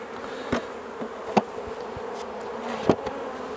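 Honeybees buzz steadily around an open hive during queen rearing as the feeder and roof go back on. Occasional bees pass close to the microphone.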